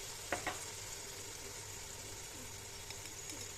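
Artichokes and tomato fry in a pan seasoned with salt, black pepper and cinnamon, giving a soft, steady sizzle with a couple of brief pops near the start; no one speaks.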